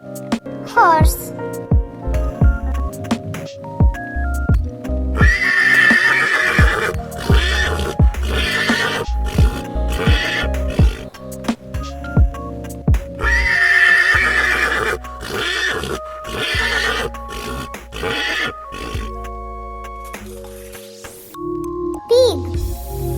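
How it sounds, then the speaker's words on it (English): A horse lets out two long, shrill whinnies several seconds apart, close and loud, over a steady percussive music beat. "Horse."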